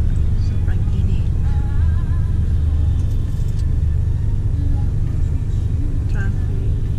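Steady road traffic in Manila, a continuous low car and bus rumble heard from close by, with people talking faintly over it.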